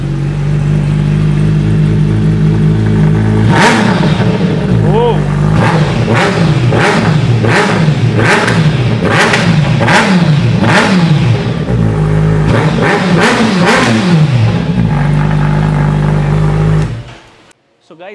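A Suzuki Hayabusa Gen 3 engine with an SC-Project exhaust revs hard again and again in sharp bursts over a deep steady idle, loud and close, with a raspy exhaust bark before cutting off.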